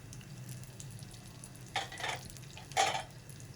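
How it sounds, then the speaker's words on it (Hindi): Almonds and pistachios frying in leftover ghee, a quiet steady sizzle with two louder bursts of stirring and crackle as the nuts are tossed in the pan, no voices. "ये घी बच गया, इसमें हम अपने दूसरे बादाम पिस्ते फ्राई कर लेंगे।"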